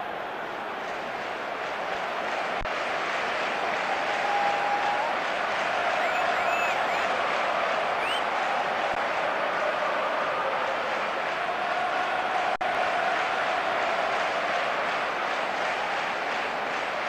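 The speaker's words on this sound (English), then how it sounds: "The crowd wait to offer them a red-hot welcome." A dense stadium crowd roars and cheers continuously in the eFootball 22 video game before a Champions League final, a steady, even wall of noise throughout.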